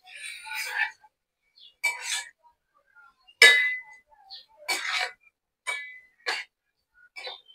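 A spiced potato mixture with coriander is stirred in a bowl, producing a series of sharp metallic clinks and scrapes of a spoon against the bowl, irregular and close, with quiet gaps between.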